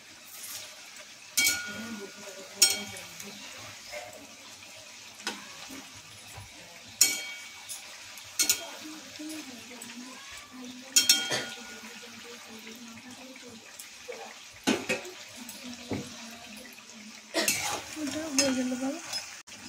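A metal spatula clinks and scrapes in a pan at irregular intervals as gandha bhadali leaf fritters are turned, over a soft, steady background hiss.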